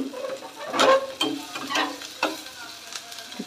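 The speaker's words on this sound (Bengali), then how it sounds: "কাঁচা লঙ্কা, আদা, রসুন ওই ঘিয়ের মধ্যে দিয়ে" Green chili, ginger and garlic frying in ghee for an egg tadka, crackling and sizzling close up with irregular stirring scrapes and pops, no voice over it.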